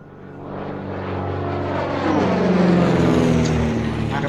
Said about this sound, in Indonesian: Tuh, ada pesawat lewat.